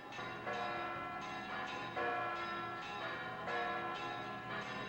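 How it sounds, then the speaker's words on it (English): Big church bells chime from a tower high on a mountaintop in Spain, calling people to mass, with heavy resonant strikes repeating about every second and ringing into one another, distant and steady. "Those bells are the big bells chiming on top of the church, calling the people to mass."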